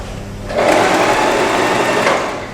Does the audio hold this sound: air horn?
no